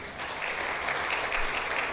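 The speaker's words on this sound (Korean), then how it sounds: "우리 환영의 박수 부탁합니다" A church congregation gives a round of welcoming applause, dense and steady clapping from many hands that fills the room for the whole moment.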